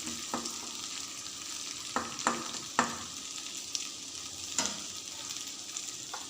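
Potato and capsicum curry sizzles in oil with chutney while a spoon stirs it, a soft continuous fry punctuated by several sharp scraping strokes against the pan, close and fairly quiet.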